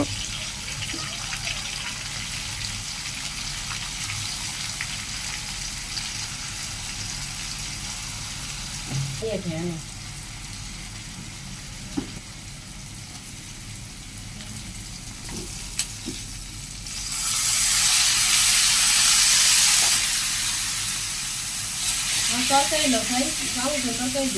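Spice paste of garlic, cumin, salt, turmeric, chili powder and green chilies fries with a little water in a pan, a low steady sizzle with stirring clinks, swelling into a louder hiss near the end.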